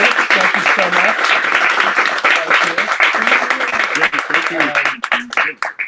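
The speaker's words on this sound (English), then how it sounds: "Let's give another round of applause for Monica, Bianca, and Craig for the wonderful reading this evening" Audience applauding at the close of a poetry reading, a sustained wash of dense clapping that stays steady for several seconds, thins out and fades at the end, with some voices mixed in underneath.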